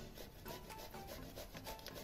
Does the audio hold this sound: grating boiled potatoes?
yes